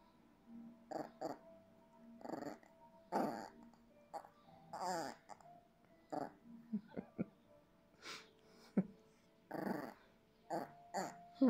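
Dog growling in short, low rumbling bursts on a couch indoors, broken by whimpers and breathy huffs, close and fairly quiet, with a few soft spoken words in between.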